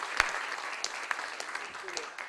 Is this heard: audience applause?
yes